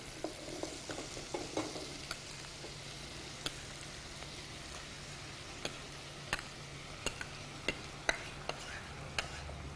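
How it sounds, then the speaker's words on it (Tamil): Onions sauté quietly in a pan for a kuzhambu, a soft low sizzle with scattered sharp ticks and a few light stirring scrapes near the start, faint and without voices. "வெங்காயம் வதங்கிடுச்சு, நம்ம தானியம் சேர்த்துக்கலாம்."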